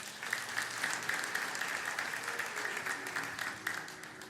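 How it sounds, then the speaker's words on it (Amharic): A church congregation applauding during a prophet's sermon, a steady, moderately distant wash of many hands clapping that continues without a break. "አጨብጭቡለት"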